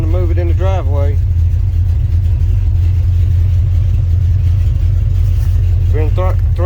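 A car with a 440 engine runs steadily in a driveway, its loud, low rumble constant throughout while a voice talks briefly at the start and end.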